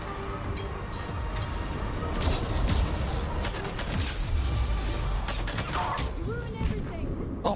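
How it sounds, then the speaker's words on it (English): Incendiary blasts fired one after another in a video game, a dense stream of loud gunfire-like bursts and mechanical clatter over a steady roar, with a voice talking underneath. "stop with the fucking incendiary blasts"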